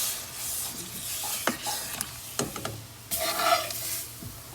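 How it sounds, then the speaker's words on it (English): Potatoes and vegetables are stirred in a pot for Irish potato and sausage stew, giving a few scraping strokes and soft knocks over a faint sizzle, close and moderately quiet. "Stir it around a little bit."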